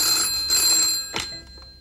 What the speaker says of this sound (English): that phone's never stopped ringing